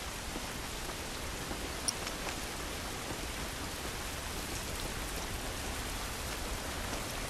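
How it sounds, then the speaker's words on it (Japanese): Steady rain from The Last of Us video game, a dense even hiss of falling drops pattering on surfaces throughout, with no talk over it. "雨か、厄介だ。"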